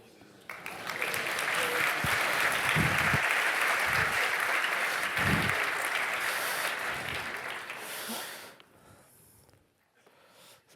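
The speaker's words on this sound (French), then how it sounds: "Si vous avez un doute, il faut applaudir." Audience applause at a keynote event builds quickly into a sustained, full round of clapping. It lasts around eight seconds, with a few brief voices and breaths mixed in, before dying away into near quiet.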